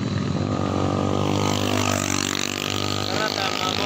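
A motorcycle with an open-pipe exhaust revs at an endurance rally, making a loud, raspy engine drone that rises and falls, with voices mixed in.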